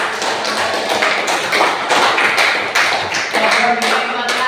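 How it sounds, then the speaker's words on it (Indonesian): A room full of people clapping steadily for several seconds, a dense run of quick overlapping claps at an even loudness. "Tepuk tangan buat"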